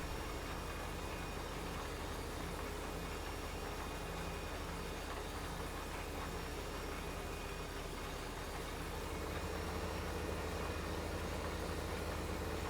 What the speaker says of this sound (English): Sound like the tractor downshifted there.